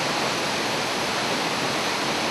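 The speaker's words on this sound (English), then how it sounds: "The looking glass falls." Looking Glass Falls near Asheville pours as a constant, dense roar of falling water, even and unbroken, with no voices over it.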